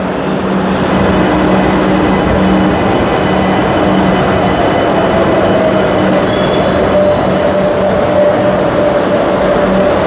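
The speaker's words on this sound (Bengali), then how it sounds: "এই যে আমাদের ট্রেন কিন্তু ঢুকছে" A metro train pulls into a station with a loud, continuous rumble of wheels on rail and a high squeal from the wheels. Thin, rising screeches join in partway through.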